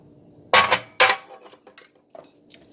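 Potatoes stirred in a pot of stewed cod, with two sharp metallic clanks of a spoon against the pot, then several lighter clinks and scrapes at close range.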